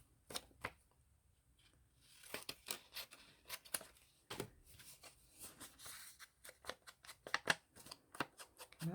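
Scissors snipping paper cards for a vintage-style journal collage, a series of short, crisp cuts in uneven bursts, quiet and close, with rustling paper between snips and no talking.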